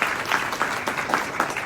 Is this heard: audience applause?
yes